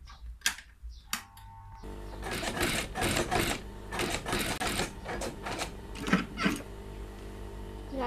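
Sewing machine stitching a shirt collar in bursts of rapid mechanical clatter, stopping and restarting several times with short pauses and a steady motor hum underneath, close and clear.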